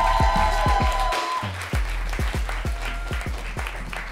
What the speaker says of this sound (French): faites un tonnerre d'applaudissements pour Mélodie Bugeaud-Henry!